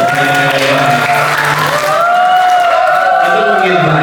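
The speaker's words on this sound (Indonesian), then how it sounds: "Tepuk tangan buat Yosif Pawisno." Loud audience applause for Yosif Pawisno at a public relations session, continuous clapping mixed with a sustained tonal layer like music or cheering throughout.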